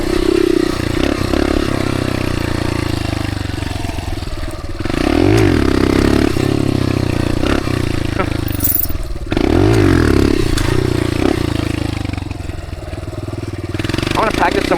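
A dirt bike engine drones loudly and steadily while riding across open desert, surging in repeated revs and throttle swells as the bike bounces over rough ground, with a person's voice breaking in at times.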